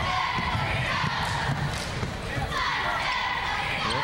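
Crowd at a high school basketball game in a gym, with a steady murmur of spectators, sneaker squeaks and ball thumps, and scattered cheers rising briefly over the noise.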